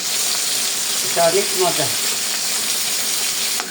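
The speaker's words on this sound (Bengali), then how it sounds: "আজকে ভাজতেছি দেশি কই মাছ, বিলের কই মাছ" Native koi fish frying in a pan, a steady hissing sizzle throughout with a voice speaking briefly in the middle over it.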